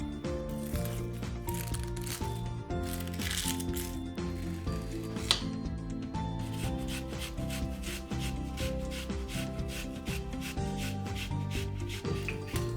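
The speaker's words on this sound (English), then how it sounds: "Now we're going to grate a shallot and 2 cloves of garlic into our pan." Shallot and garlic cloves rasp against a hand grater in continuous close scraping strokes over about thirteen seconds, with no one talking.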